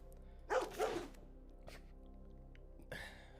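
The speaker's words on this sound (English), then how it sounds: "And the Tanuki barks." Tanuki creature in a card game gives a couple of quick yappy dog-like barks, close and bright, followed by a softer bark-like sound a few seconds later over a quiet backdrop.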